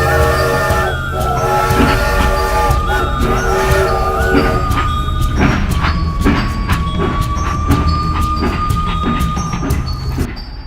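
A fast-moving cartoon train on a cursed railway rumbles loudly and steadily throughout, with rhythmic rattling clicks and a rising whine over the continuous rolling noise.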